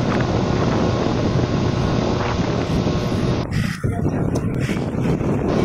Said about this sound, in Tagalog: may hangin sa ilalim ng bridge lumalabas